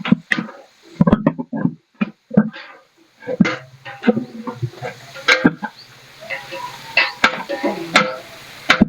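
Mutton fries in a pan with chilli, bay leaf, shahi jeera, cinnamon and onions, sizzling and crackling with sharp ticks and scraping stirs throughout, close and fairly loud, with a constant hiss underneath.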